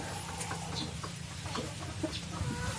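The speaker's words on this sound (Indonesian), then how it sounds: "inilah induk-indukan tetapnya di jalur ayam KUB murni" KUB parent-stock hens cluck softly in a chicken pen, giving scattered short clucks over quiet background noise.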